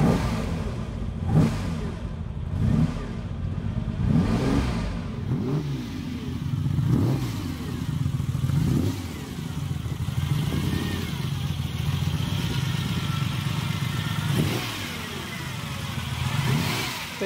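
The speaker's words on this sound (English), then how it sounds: "we'll take the car outside, fire it up, and you'll be able to hear the wonderful symphony this V12 creates" A large V12 car engine turns over and catches, then idles roughly with repeated throaty revs rising and falling, loud and close, no voices.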